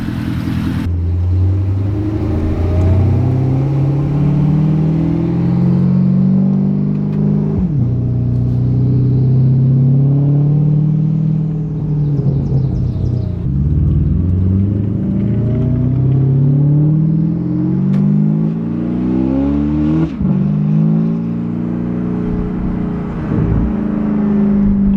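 Porsche Panamera Turbo engine fitted with a GT3-style exhaust revs steadily, a loud, deep rumbling drone that rises and falls through several sweeps, close and continuous with no talk.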